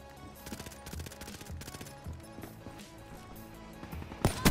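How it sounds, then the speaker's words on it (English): Video game gunfire in Call of Duty Black Ops 3 multiplayer: rapid bursts of shots run throughout, with a sharp, louder sniper rifle crack near the end. "Now I just got to get this one sniper shot."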